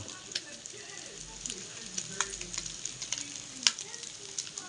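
Duck blood stew in the making, seasoned with salt and seasoning mix, sizzling in a pan while being stirred, with steady crackle and scattered louder scrapes and clinks, no talking.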